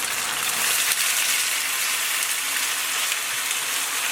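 Shaoxing rice wine hits chicken frying in a hot pan for Taiwanese three-cup chicken, a loud, dense, steady sizzle close up with no pauses.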